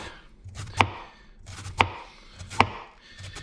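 A knife chopping cabbage for sauerkraut on a board, three sharp, evenly spaced thuds, each preceded by softer slicing sounds, close and clear with no talk.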